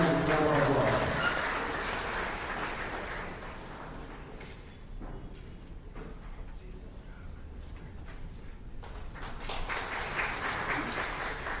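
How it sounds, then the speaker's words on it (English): An audience at the C-DAC ACTS February 2026 batch orientation claps, loud at first and then thinning into scattered claps, with talk and shuffling running through the room. "Give him a round of applause"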